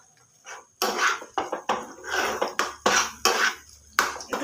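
Knife chopping food on a board while preparing egg chicken fried rice, a run of close, sharp, irregular chops and taps.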